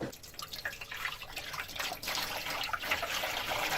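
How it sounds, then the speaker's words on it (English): Distilled water pours into a Chauvet Cumulus low-lying fog machine, making a steady, close trickle and splash with light dripping and no voices. "So, in here I'm going to pour in the distilled water."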